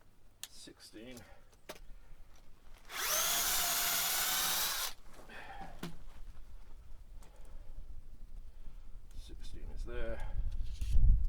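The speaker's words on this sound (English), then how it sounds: "So I'll do the drilling." A power drill whirs loudly for about two seconds in one continuous burst into a log, with quieter handling noises and brief rattles before and after.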